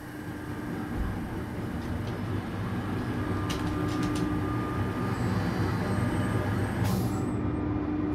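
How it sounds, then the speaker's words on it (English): In the Power Polyp ride simulation game, a compressor starts and the main engine runs up, a steady low mechanical rumble and hum that builds slightly, ending with a short hiss, no voices. "You will hear the sound of the compressor start up, and then you will hear the main engine."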